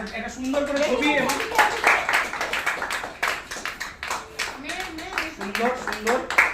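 Loud, sustained applause from a crowd at a prize-giving ceremony, with the clatter of many hands continuing beneath someone speaking throughout.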